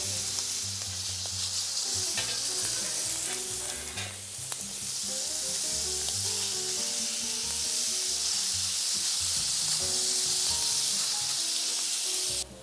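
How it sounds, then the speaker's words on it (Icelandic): Beef chuck browning in a well-heated pan, giving a continuous, close sizzle and crackle of frying with occasional stirring scrapes, steady throughout. "Á meðan kjötið er að brúnast"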